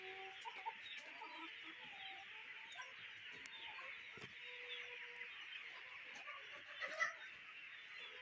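Issa Brown layer hens cluck softly and intermittently at a moderate distance, with several birds overlapping over a steady, quiet background hum; no one speaks.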